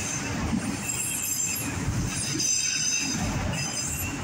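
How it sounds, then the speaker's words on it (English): Southbound CSX autorack freight train rolling past close by, a steady loud rumble of rail cars with high metallic wheel squeal running throughout and no talking. "And there goes our southbound CSX autorack train."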